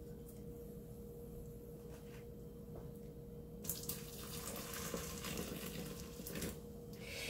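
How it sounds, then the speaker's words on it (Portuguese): Boiling water pours from a kettle into a cup while making oat bread with molasses, a steady close liquid stream that grows louder and splashier partway through. "E agora eu vou pôr uma xícara de água fervendo."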